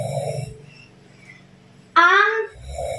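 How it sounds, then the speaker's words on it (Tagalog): A man snoring nearby, with low, rough rumbling breaths at the start and end and a brief, louder, higher-pitched burst between them. "May hilik na si Daddy."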